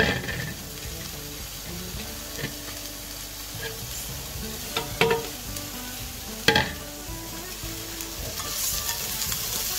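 Chopped vegetables frying in a pan with browned onions, a steady sizzle under scattered clinks and scrapes of stirring, with a few sharper utensil knocks.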